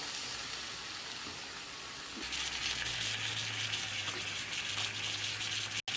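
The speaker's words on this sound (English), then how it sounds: "our sizzlers are ready and now it's like started sizzling" Steady sizzling hiss of sizzler platters on a hot plate that swells louder partway through and keeps crackling, with a faint low hum underneath.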